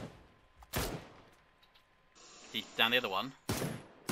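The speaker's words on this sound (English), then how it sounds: "There's another one shooting a bit closer to us." Enemy gunfire in a first-person battle royale shooter: several sharp shots ring out at medium distance, spaced apart, while players talk over the action.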